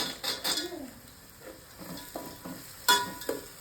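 Onions fry for paneer pulao, sizzling steadily at close range, with intermittent metal clinks and scraping from a spoon stirring the pan.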